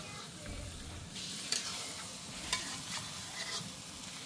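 Meat being stirred and browned in a large pot at a group cooking gathering, with a low steady sizzle and a couple of sharp clicks of a big spoon against the pot, fairly quiet and without talk.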